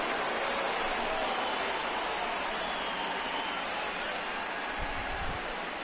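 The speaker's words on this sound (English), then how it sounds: "Heard the crowd reaction to Bogaerts." A steady, dense roar of a stadium crowd in the baseball video game MLB The Show 19, a broad wash of cheering and murmur that holds at the same level throughout.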